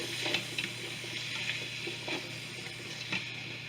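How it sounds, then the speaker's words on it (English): Vegetables fry and sizzle steadily in a pan for cabbage wraps, with a continuous hiss and a few brief stirring scrapes at a moderate distance, no talking. "mix it up and let these veggies cook too"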